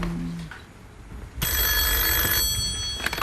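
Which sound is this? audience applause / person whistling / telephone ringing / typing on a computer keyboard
telephone ringing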